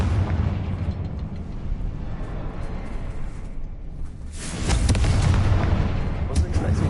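In Hogwarts Legacy, a Confringo fire spell bursts into a loud explosion. A muffled rumble gives way to a sharp, booming blast that rolls on, with a voice talking faintly beneath the game sounds.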